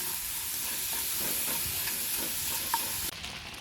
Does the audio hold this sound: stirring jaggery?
yes